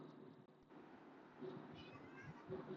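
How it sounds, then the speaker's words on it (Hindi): A cat meows faintly in the background of an online maths discussion, a few thin, distant cries behind room noise. "कहाँ पे बोल रही है बिल्ली?"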